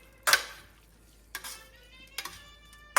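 Peas and pancetta for carbonara are stirred in a pan, with four sharp scraping clinks of a utensil against the pan spaced unevenly over a quiet background.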